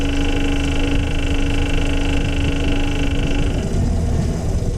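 Inboard boat engine on a first sea trial off Newfoundland runs steadily near idle, a loud close drone with a high whine that drops away near the end as the engine note shifts, no voices.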